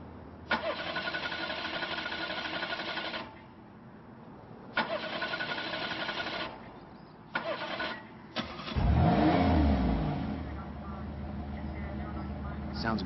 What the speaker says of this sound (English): Why don't you rev the engine for me?